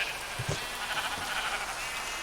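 Sheep bleats in a farming video game, two short calls close together early on, then a quieter one, over a steady hiss of background ambience.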